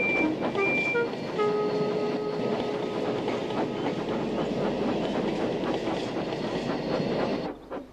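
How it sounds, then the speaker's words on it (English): Trains shunting in a rail yard, with continuous clanking wagon rumble, rhythmic clickety-clack and a few steady tones like a horn or whistle, loud and close throughout. "After a great deal of shunting, Percy was waiting for the signalman to set"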